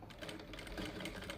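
Household sewing machine stitching cloth, a quiet, rapid mechanical chatter of the needle running in a steady stream of closely spaced clicks, close and faint, with no talking.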